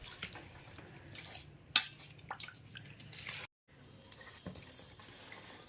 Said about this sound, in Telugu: ఇప్పుడు చిన్నగా కలిపేసుకుందాము.